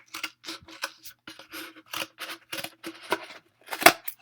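Scissors snipping through a flat paper net of a 3D shape in a classroom math lesson, a rapid run of crisp, close cuts with short gaps, ending on a sharper snip.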